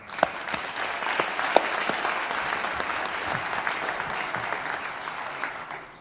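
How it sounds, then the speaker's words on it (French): Steady applause from an audience at the opening of a youth organizations day, dense and continuous, with a few louder individual claps standing out and some faint voices underneath. "Je pense qu'on peut les applaudir."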